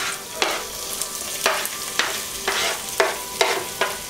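Ingredients other than bacon stir-fried in a hot pan for a bacon cream tteok dish, steady sizzle broken by regular scraping strokes of the spatula roughly every half second, close and clear with no talking.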